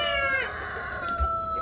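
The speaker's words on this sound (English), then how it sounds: "I have a set of hens and roosters that hang out in the goat pens." A rooster crows close by with hens and roosters kept in goat pens, cochin roosters among them, a single drawn-out crow trailing off, with faint clucking and a soft thump near the end.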